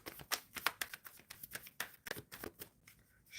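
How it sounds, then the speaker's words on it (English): Tarot cards being shuffled close by in quick riffling bursts, a steady series of crisp flutters and snaps with brief pauses between. "Shuffling for Sagar."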